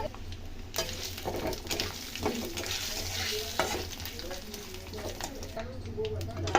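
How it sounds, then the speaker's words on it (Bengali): Phoron whole spices with asafoetida fry in hot oil for an Odisha dalma, a steady close sizzle broken by frequent scraping stirs and light clinks of a spoon against the pan, with faint voice in the background. "সমস্ত ফোড়নকে 2-3 সেকেন্ড ভালো করে ভেজে নেব"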